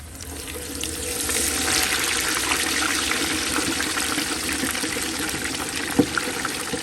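Turkey wings dropped one at a time into hot deep-frying grease, giving a steady loud bubbling hiss throughout with a brief sharp crackle near the end.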